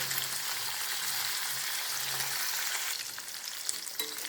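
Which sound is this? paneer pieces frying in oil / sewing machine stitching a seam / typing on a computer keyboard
paneer pieces frying in oil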